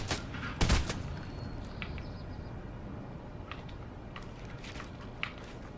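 Burst-fire gun shots from a weapon in the Fortnite video game crackle in a quick cluster near the start, followed by quieter scattered in-game clicks and effects.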